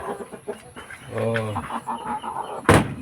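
Backyard Rhode Island Red chickens cluck and murmur close by in a rural setting, with a short burst of throaty calls in the middle and a sharp knock near the end, while a person talks over them.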